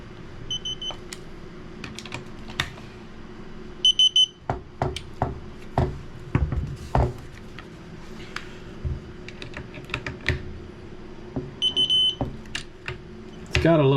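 A digital torque wrench gives short repeated electronic beeps in small groups, set against clicking and handling noise on a workbench during a Timney trigger install in a Weatherby Vanguard rifle.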